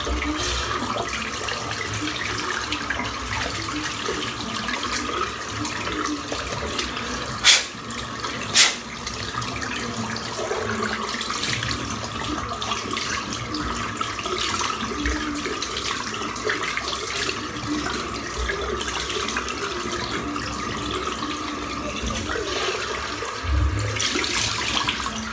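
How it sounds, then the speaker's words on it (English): A tap runs steadily at a sink while a razor and the basin are rinsed, a constant hiss of flowing water with a couple of sharp clinks partway through. "Just going to rinse out the sink. Rinse off the razor, rinse off my head."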